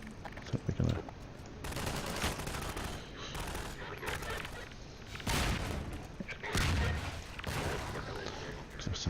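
Automatic AR2 rifle fire in the Half-Life 2 game, loud bursts of gunshots with booming impacts and shifting intensity, repeating in heavy volleys over a continuous battle din.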